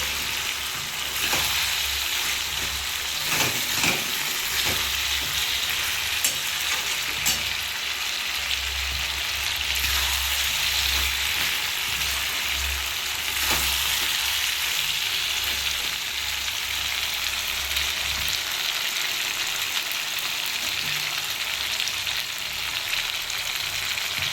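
Chicken curry frying down in a pan after its water has cooked off, a dense, continuous close sizzle with a low rumbling undertone and occasional faint stirring scrapes, steady and loud throughout with no speech.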